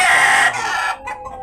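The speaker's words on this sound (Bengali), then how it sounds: "চারটা মুরগি একটা মোরগ" On a poultry farm in hot weather, a single loud, close call from a chicken rings out for about half a second, then fades into fainter, broken clucking from the birds, with no one speaking.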